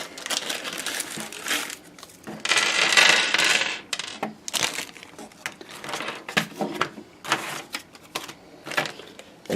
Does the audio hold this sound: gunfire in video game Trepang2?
no